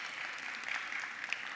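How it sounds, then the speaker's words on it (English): Audience applause for a panel moderator at an energy conference, a steady, soft-to-moderate wash of clapping with no distinct voices. "a round of applause for Natznet as she makes her way to stage"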